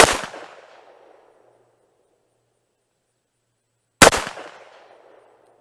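Two sharp rifle shots of Hornady Black 38 grain VMAX ammunition fired from a Tommybuilt T7, spaced about four seconds apart, each a loud crack with a ringing decay and no voices.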